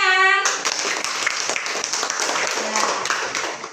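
A classroom of students claps together during a teaching-practice lesson, a close, fairly loud run of individual hand claps with uneven rhythm, opening after a short voiced tone.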